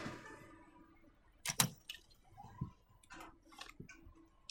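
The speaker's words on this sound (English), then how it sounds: "Now let's open this hatch and kill some raiders." Metallic clanks, jangles and sharp knocks from a hatch being opened in a video game, quiet with scattered bursts of clatter and a few soft thuds over a few seconds.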